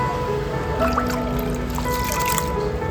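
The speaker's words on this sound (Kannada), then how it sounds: "ಹಾಕ್ಕೊಳ್ತಾ ಇದ್ದೀನಿ ನೀರು" Water trickles steadily into a cooking pot for rice porridge, a soft continuous pour heard close up under a low background hum.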